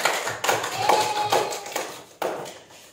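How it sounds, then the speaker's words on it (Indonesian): Classroom of students clapping after a group presentation, a sparse, uneven patter of hands with distinct bursts and brief dips, close and moderately loud. "Kasih tepuk tangan."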